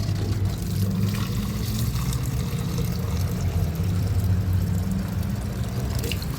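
Tap water gushing steadily from a direct pipe, unfiltered, at an aquarium fish shop, a continuous broadband rush with a low rumble underneath and no talk.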